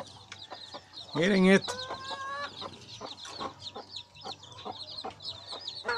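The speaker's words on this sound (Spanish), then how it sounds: "De las gallinas híbridas que les mostré el otro viaje, ya sacó 10 pollitos." Hybrid hens and a brood of about ten newly hatched chicks cluck and peep near the microphone, with a loud burst of calls early on and steady chatter afterward, while someone speaks over them.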